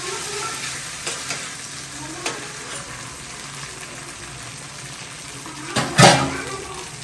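Ground spices, added after garlic, cumin and asafoetida, sizzle steadily in hot oil in a home kitchen, with soft stirring scrapes and a sharp clatter near the end.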